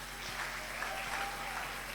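Steady applause from a crowd at a Christmas church gathering, a dense, even patter of clapping hands that continues unbroken throughout.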